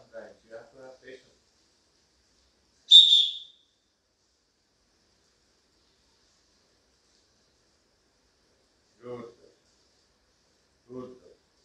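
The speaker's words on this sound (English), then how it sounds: "And mouth whistle." A sharp, brief mouth whistle used in puppy training rings out alone in a quiet room, with short bursts of a person talking to the dog before and after.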